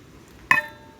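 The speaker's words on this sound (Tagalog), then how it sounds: "haluin lang po natin siya." A single bright, ringing clink as something strikes the container while salt brine is stirred, close and sharp against a quiet background.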